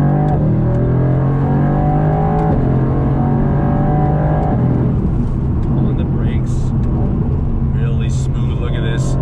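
A 2020 Mercedes-AMG GT R engine drops in pitch through several downshifts while braking, loud and close, with a few squeaks and clicks near the end.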